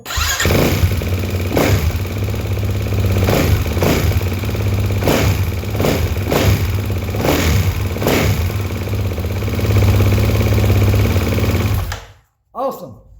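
A 2022 Kawasaki KX450 dirt bike, with its cam chain just tightened, fires up and idles loud and close with a rapid chattering engine rhythm for about twelve seconds before cutting off.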